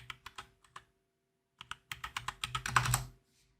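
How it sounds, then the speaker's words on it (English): Close keystrokes on a computer keyboard as a fax number is entered: a few sparse taps, a pause, then a quicker run of clicks that builds to a dense cluster before stopping. "And then you can enter your fax number that was assigned to you for your web fax."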